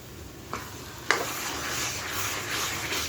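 A spatula stirs carrot halwa in a pan, a continuous soft sizzle with scraping strokes and a sharp clink of metal partway through, no talking.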